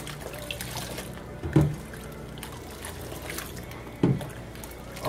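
Water runs and trickles steadily from a faucet during a corgi puppy's first bubble bath, fairly quiet and close, with two brief louder splashes along the way.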